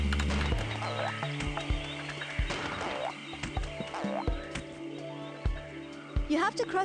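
Frog croaks from the video game Kao the Kangaroo, a series of gurgling, bouncy croaks with rising and falling pitch repeating irregularly over game music and effects, moderately close.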